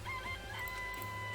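Chickens cluck and a rooster crows in the Danganronpa: Trigger Happy Havoc video game, a steady, dense barnyard chorus that runs unbroken throughout with no voices over it.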